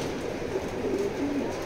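Racing pigeons cooing close by, a few soft low throaty coos rising over a steady background hum, with no one talking.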